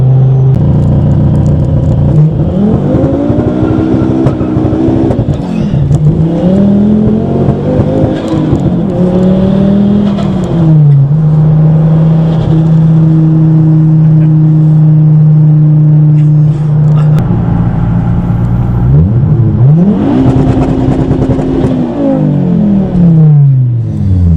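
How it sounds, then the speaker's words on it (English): A loud, close, tuned five-cylinder Ford Focus ST engine making 530 bhp revs up and down repeatedly, rising and falling in pitch with a throaty, raspy tone and a sustained hold mid-way. "There's something about the sound of a Yeah. tuned 5-cylinder engine."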